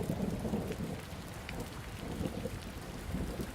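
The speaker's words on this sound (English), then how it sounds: "stay warm and stay dry inside until this awful storm passes" Steady rain falls with a low rumbling thunderstorm in a vampire castle audio drama, a continuous muffled wash of downpour and deep rolling thunder, moderately quiet and with no voices.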